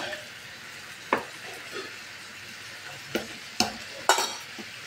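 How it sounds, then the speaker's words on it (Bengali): Banana flower mixture with spices and yogurt stirred in a frying pan: a soft background sizzle broken by several sharp spatula scrapes and clinks, close and without speech. "এবার আমি একটু নেড়ে দিচ্ছি।"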